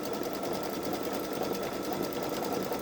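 A Babylock Solaris embroidery machine stitches neon thread with a fast, steady mechanical whir and even rhythmic chatter, close and continuous with no talking.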